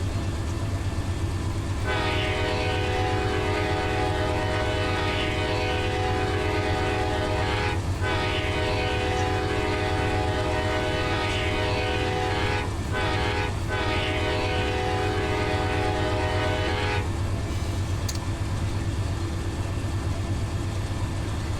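Amtrak P053 Auto Train passing through Jesup, Georgia: a loud, steady rumble of rolling railcars runs throughout, with a long sustained horn blast that cuts off briefly a few times before fading.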